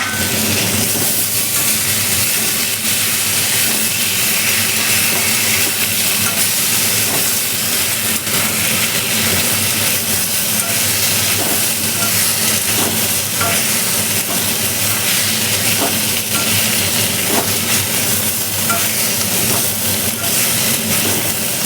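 Potatoes fry in hot oil in a pan, giving a loud, continuous, close sizzle with crackle and hiss that stays steady throughout, with no talking.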